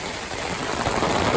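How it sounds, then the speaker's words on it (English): Rain and water dripping through the center seam of a leaking River Country Products Trekker 2.2 tent, a steady close wash of patter and trickle with no talk. "It is just dripping and raining from the center of this tent."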